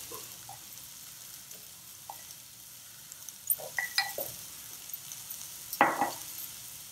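Bitter gourd is stir-fried with turmeric, salt and asafoetida. A quiet pan sizzle runs throughout, and a few soft stirring scrapes and light clinks become more frequent in the second half.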